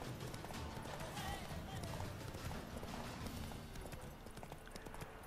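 Hooves of the horse Roach in The Witcher 3 clop steadily across the ground in a continuous galloping rhythm, with faint game noise around them.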